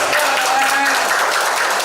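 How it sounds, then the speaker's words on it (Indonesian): An audience at a Sawit Token training session breaks into dense, steady applause. The many hands fill the room evenly and loudly, and voices mix in underneath. "Keren, tepuk tangan buat kita."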